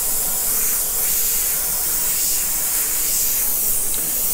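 Spray paint hisses onto a canvas for graffiti-style art, a loud, continuous close-up spray with no pauses and no voices.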